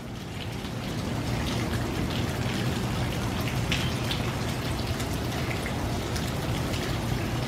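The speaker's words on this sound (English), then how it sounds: "Now take a look at this rain. Look at that. Beautiful rain." Rain falls outside a back window, a dense, steady patter of drops that swells in the first second and then holds at a constant, fairly loud level with no talk.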